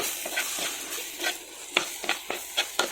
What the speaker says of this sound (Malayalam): എന്നിട്ട് നമുക്കിത് നന്നായിട്ടൊന്ന് ഇളക്കി കൊടുക്കാം.